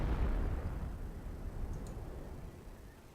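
A 25-pounder artillery shell from Company of Heroes landing in a heavy, rumbling explosion that starts loud and slowly decays over a few seconds, with a faint tick in the fading roar and no speech.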